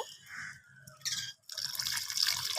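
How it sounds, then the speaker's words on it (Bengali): Water poured into a cooking pot of vegetable dalna, a close splashing gush that pauses briefly and then resumes more strongly, bright and steady. "তো এরপর আমি এখানে জল অ্যাড করে দেব।"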